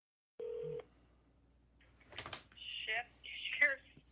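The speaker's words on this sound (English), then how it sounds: "he made a phone call." A phone call is dialed, with a single tone beep followed by faint dialing and rustling, then a voice begins speaking on the line as the call connects.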